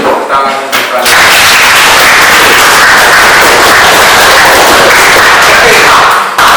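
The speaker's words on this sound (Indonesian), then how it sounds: "Oke, tepuk tangan untuk kalian." A school class applauds loudly and steadily for several seconds in a classroom, the clapping dense and close after a short pause.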